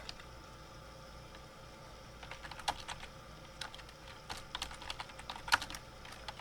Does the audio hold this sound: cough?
no